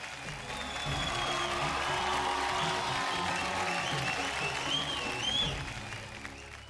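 A studio audience on a Marathi television show breaks into sustained applause, dense and loud, swelling after the first second and running steadily to the end with faint crowd noise beneath.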